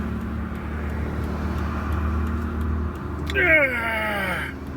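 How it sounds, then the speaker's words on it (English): Road traffic heard from inside a moving taxi, a steady low engine and road rumble, then a louder swell of a passing vehicle with a falling whine near the end. "there are a lot of cars on the road right now"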